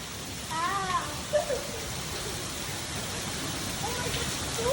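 Steady rain falls in a desert city in the UAE, a continuous hiss of drops on surfaces, while people's voices and excited calls come briefly over it near the start.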